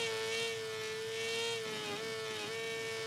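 A MotoGP 17 race bike's engine whines at high revs, a sustained buzzing tone that dips and rises slightly as the throttle is worked, steady and fairly loud.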